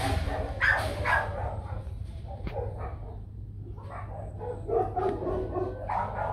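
Bac Ha dogs in a Vietnamese village barking repeatedly in loud, close bursts with some yips, continuing over a steady low background hum.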